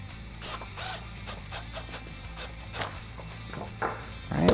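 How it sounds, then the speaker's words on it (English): Hex socket tightening a nylon lock nut on a stud while a 10mm socket holds the nut, during a K&N Series 63 AirCharger cold air intake install on a 2011-2020 Dodge Challenger 5.7L. Faint, scattered metallic clicks and taps come at an uneven pace. "you're gonna hold that nut in place with your 10mm socket and tighten it down with a 5/32 hex socket."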